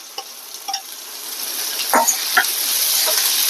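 Finely chopped small onions and curry leaves sauté in hot oil, the hiss growing steadily while a spatula scrapes and taps the pan a few times.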